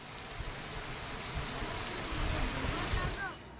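Heavy rain pours steadily over a town in Madhya Pradesh or Chhattisgarh, India, a dense unbroken hiss with low rumbling beneath that stays loud throughout before thinning abruptly at the very end.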